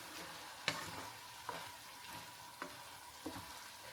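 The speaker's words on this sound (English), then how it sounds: "And then stir all of that together." Mince seasoned with salt and pepper being stirred in a hot pan, a soft steady sizzle with four distinct spatula knocks and scrapes spaced about a second apart, close and fairly quiet.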